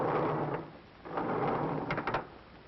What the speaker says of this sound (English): the most difficult of all sound effects to achieve, the opening and closing of elevator doors